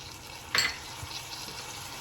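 Keto bacon jam with cooking sherry wine and golden monk fruit sweetener cooks in a pan, a faint low simmering hiss broken by one short bright sizzle or stir scrape, no talk.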